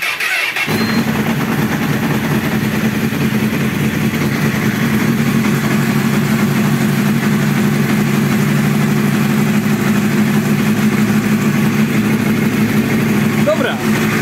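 A Honda CBR1000RR SC57 motorcycle engine idles steadily at close range after service work, a low throbbing rumble that holds even and unbroken throughout.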